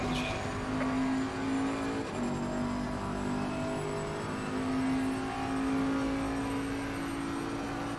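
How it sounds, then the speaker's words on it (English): A steady race car engine in the video game Assetto Corsa Competizione on PS5 drones at constant pitch with a low rumble, continuous and close, with no voices. "car sounds about the same as it did"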